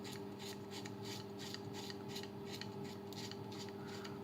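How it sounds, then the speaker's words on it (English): Harry's Tough Blade razor scraping steadily through stubble in a series of short rasping strokes, close and fairly quiet, with no talk. "I'm doing quite a lot of shaving before I've even managed to rinse it"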